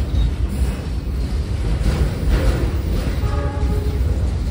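A freight train of 30 wagons carrying gas and containers rumbles past close by in a steady, loud, continuous roar with no breaks or voices.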